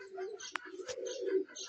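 Pigeons in a coop housing dozens of pairs give a soft, low continuous cooing close by, with a couple of brief sharp clicks or flaps over it and no speech.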